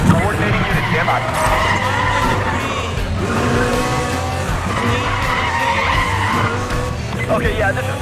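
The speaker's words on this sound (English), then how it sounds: "Okay, yeah, this is definitely some kind of street race." In the racing game Need for Speed: The Run, cars skid and squeal their tires through a street race, a dense and continuous loud wash of engines and screeching with voices talking over it.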